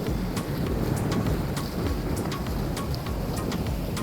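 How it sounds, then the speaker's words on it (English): Gusty wind battering microphones aboard a boat cruising the Intracoastal Waterway, a loud constant rushing roar with scattered crackling buffets and no voices. "A lot of wind noise."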